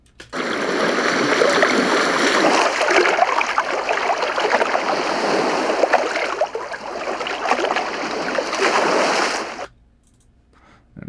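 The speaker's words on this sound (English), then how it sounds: "if we play this water event" Flowing water ambience, a stream-like trickle and rush played back as an area sound event in FMOD for a Unity VR scene, steady and fairly loud, then cutting off abruptly near the end.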